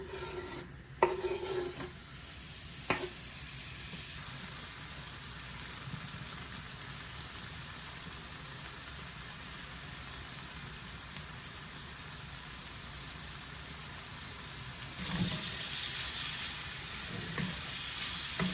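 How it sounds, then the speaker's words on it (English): Chicken with spices sautéing in a pan during meal prep, a steady soft sizzle with faint stirring scrapes, a couple of sharp utensil knocks near the start and a louder burst of sizzling toward the end. "We'll just saute it till it's cooked"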